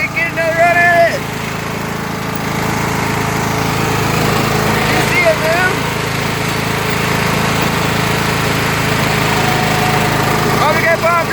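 A homemade high-powered lawn mower engine runs loud and steady close by, with a continuous rough drone that barely changes pitch. Brief voices come through at the start and near the end.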